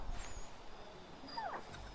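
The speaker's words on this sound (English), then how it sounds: "Hi, dog." Dog in the video game Assassin's Creed III giving a brief high whimper or yip near the middle, heard faintly over low game ambience.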